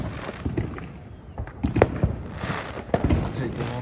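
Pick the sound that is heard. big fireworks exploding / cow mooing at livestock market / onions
big fireworks exploding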